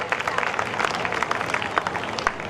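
Audience at a poetry gathering giving a short burst of applause, dense, uneven clapping that stays moderately loud and crowd-like for a couple of seconds.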